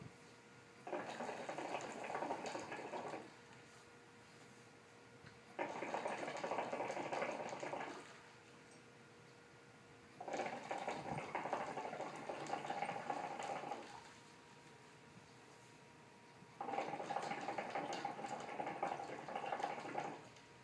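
Hookah water bubbling in the glass vase as air is blown through over hot coals, four sustained gurgling bursts of a few seconds each separated by short quiet pauses, close and fairly soft.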